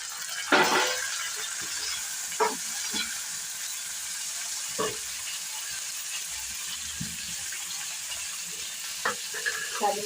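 Tomato frying with onion and garlic in a pan, a steady low sizzle punctuated by several distinct spatula scrapes and knocks at irregular intervals, no speech.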